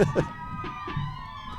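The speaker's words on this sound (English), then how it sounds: "Maybe that's her home run siren." A wailing siren rises and falls against a steady tonal hum at a college softball game, with bursts of nearby voices and shouting breaking over it.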